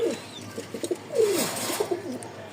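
A pair of home-bred Rajshahi flying pigeons coo nearby in soft, throaty, rising-and-falling phrases, with a few short pulses and one longer rolling coo, and no voices.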